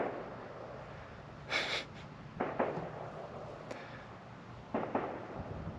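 Distant gunshots crack out near a metal shop, a few separate faint bursts spread over several seconds against a low steady background hum.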